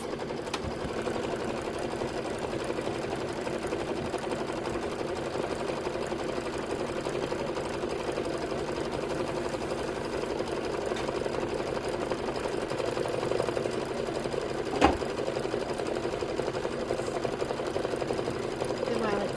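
An embroidery sewing machine stitches out a quilted pillow block with a steady, unbroken mechanical whir and rapid needle chatter that runs the whole time, broken only by a single sharp click partway through.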